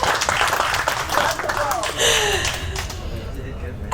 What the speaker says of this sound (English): Another big round of applause for Joey.